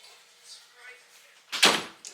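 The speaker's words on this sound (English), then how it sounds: "Close that door behind you" An indoor door shut once with a firm, close thud near the end, after a soft shuffle of movement; a voice is heard speaking faintly beforehand.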